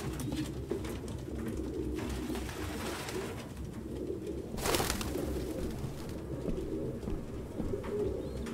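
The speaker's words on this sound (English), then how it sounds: "No human could live with all these fucking pigeons." Pigeons cooing in a video game scene set in a cluttered pigeon-filled apartment, soft steady murmuring coos from several birds with a brief burst of flapping midway.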